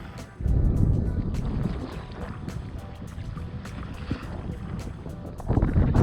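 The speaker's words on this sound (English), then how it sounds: "sorry about the wind" Steady low wind rumble buffets the microphone outdoors at Errolwald Bay during a kayak fishing championship, with gusts swelling louder near the start and end, alongside faint ticking taps.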